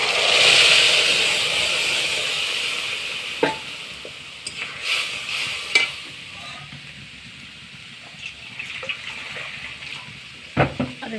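Moong dal poured onto fried masala in a pan cooking with katla fish head: a rushing pour at the start gives way to a low simmering sizzle, broken by several sharp spoon taps and clinks against the pan.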